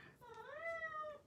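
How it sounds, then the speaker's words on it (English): A cat indoors gives a single drawn-out meow close by, rising and then sliding down, fairly quiet and alone. "got this cat coming in trying to talk to me here"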